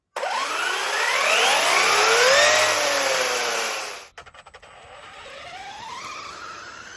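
A Traxxas Slash 4x4 RC car motor, fitted with a three-speed setup, whines loudly up close at low throttle with rising electric tones. It cuts off abruptly, gives a few clicks, then rises again more softly.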